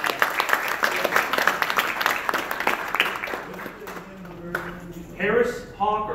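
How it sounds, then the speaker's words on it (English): Audience applause with cheering at an outdoor birds-in-flight show, a steady round of clapping that fades after about four seconds, followed by a few scattered voices and whoops. "let's give them a round of applause"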